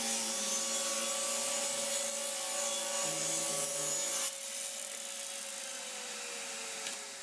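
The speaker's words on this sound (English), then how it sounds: "let's get into some test cuts so you can see how this saw really performs" A Delta 36-725 table saw makes test cuts, with a loud, steady motor whine and rough cutting noise. The pitch and texture shift partway through as the blade works the piece, and the saw hums on afterward.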